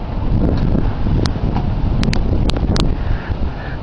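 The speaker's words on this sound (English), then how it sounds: "the wind's picking up and the snow's returning" Strong wind roars steadily outside a house deck during a February winter snowstorm, a loud continuous buffeting rush against the microphone with a few faint high clicks.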